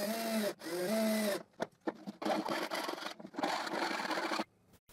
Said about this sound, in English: I file the tip of the screws that protrude the other side.